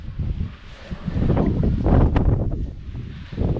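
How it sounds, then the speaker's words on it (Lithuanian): Strong wind buffets the microphone in heavy, rumbling gusts that rise and fall, loud and close, with no voices. "Šiandien vėjas didžiulis"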